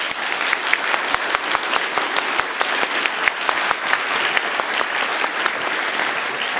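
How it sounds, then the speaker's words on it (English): A room full of people at an open-mic conference session claps steadily and enthusiastically, with dense, sustained applause throughout. "So now, applause."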